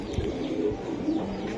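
A khaki Giribaz pigeon coos close by, a brief soft, throaty burble.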